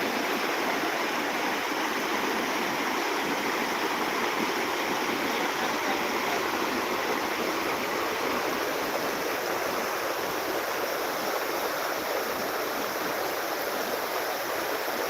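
Floodwater rushes through Kase village in Konkan, a continuous broad roar of fast-moving water, steady and loud with no pauses.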